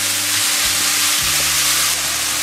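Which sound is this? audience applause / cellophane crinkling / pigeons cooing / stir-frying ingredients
stir-frying ingredients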